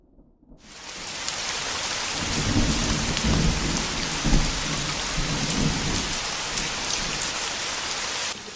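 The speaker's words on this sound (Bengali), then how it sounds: "ঝমঝম করে বৃষ্টি নামলো।" Heavy rain pours down steadily with rolling rumbles of thunder in an audio drama scene, starting after a short silence and staying loud and dense throughout, with no voices.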